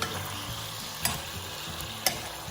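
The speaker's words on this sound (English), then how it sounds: "This is gonna fry, and then I'll add the seasoning in it and then put some water" Pork with pineapple and beans frying in a pan, a steady sizzle with occasional stirring scrapes and two brief sharp clinks.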